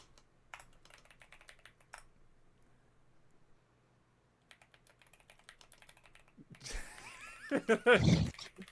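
Quick bursts of keyboard typing come in short runs separated by pauses, ending with close laughter.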